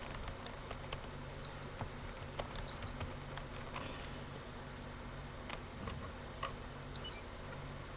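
Scattered, faint key clicks from typing on a computer keyboard come in irregular bursts over a steady low background hum, with no talking.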